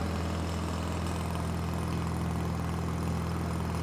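A steady, close drone from an Onan Performer 16 engine on a Lincoln Ranger 8 welder-generator running smoothly at low idle after a carburetor clean, with an even low rumble throughout and no voices.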